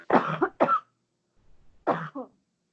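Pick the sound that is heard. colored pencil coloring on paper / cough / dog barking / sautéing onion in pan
cough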